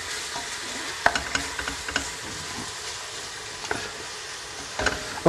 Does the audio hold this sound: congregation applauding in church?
no